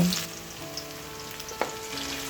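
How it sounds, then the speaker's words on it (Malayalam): Chopped onion sizzles in hot oil with mustard seeds in a pan for a dal curry, a steady close crackling hiss with occasional stirring clinks and no talking. "അപ്പോൾ ഈ സവാളയും നമുക്ക് ഇതിലേക്ക് ഇട്ട് കൊടുക്കാം."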